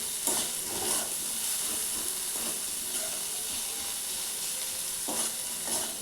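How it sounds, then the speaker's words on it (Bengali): Diced potatoes and vegetables fry in a little oil in a kadai, a close, steady sizzle with soft stirring scrapes rising and falling throughout. "কড়াইতে অল্প তেল দিয়ে আমি সবজিগুলো এখন ভাজা ভাজা করছি"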